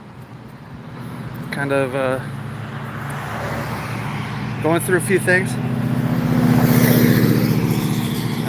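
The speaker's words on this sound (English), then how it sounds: "I'm sure the traffic is making a lot of noise too" Street traffic rumbling past while someone walks, a steady roadway drone that swells as a vehicle passes near the end, with a person talking over it in short bursts.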